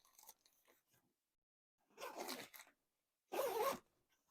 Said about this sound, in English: So I'm gonna go ahead and zip that up.